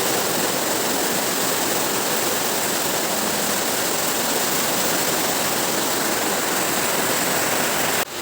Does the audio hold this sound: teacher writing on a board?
no